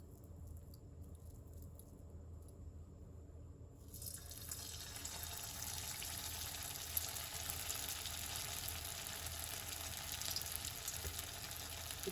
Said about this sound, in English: and then we will be frying all the Manchurian balls.